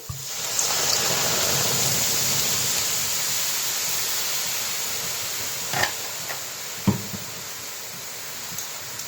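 Water pouring into a wok, a continuous rushing splash that holds steady, with a few faint knocks late on.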